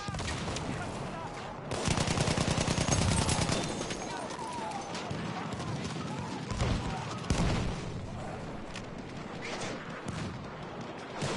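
Machine gun fire in the video game Battlefield 1, played with the BAR Storm support gun on the Giant's Shadow map: loud rapid bursts mixed with heavier booms and battlefield noise, with a voice speaking in between.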